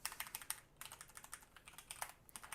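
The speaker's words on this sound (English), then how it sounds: "since I'm manually typing in things" Quiet, rapid clicking of keys on a computer keyboard, steady typing with a brief pause partway through.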